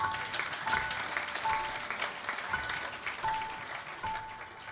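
A church congregation applauds and cheers to praise the Lord, a dense steady wash of clapping from a large crowd that runs the whole time, with a faint tone sounding now and then underneath.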